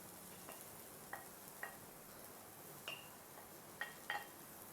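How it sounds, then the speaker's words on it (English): Crushed garlic frying with softened onions in a pan, a faint low sizzle with a few soft clinks and scrapes of stirring scattered through, no speech. "When your onions are slightly done, add this crushed garlic."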